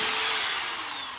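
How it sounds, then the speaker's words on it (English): Power drill boring a hole through a doweling jig into a wooden table leg while the top is glued up, a steady high whine that holds loud and continuous throughout. "make sure that when you're drilling, you push down on that short side of the dowling jig"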